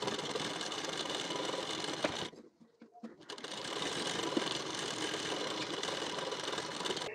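A sewing machine runs steadily while stitching a blouse's belt piece to its front panel, with a fast whirring hum that stops for about a second before starting up again.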